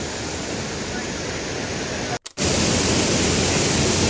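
Steady broadband roar of rushing water at Kinabuan Falls, loud and continuous with a brief dropout near the middle.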